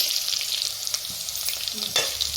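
Carrot and beetroot sizzle and crackle steadily in a hot pan with turmeric, with occasional stirring scrapes over the continuous fry.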